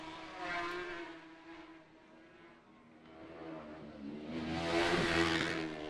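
Racing motorcycles at the Macau Grand Prix scream past on a street circuit, engines rising and falling as they approach and pass, a loud harmonic whine swelling again near the end with no talk over it.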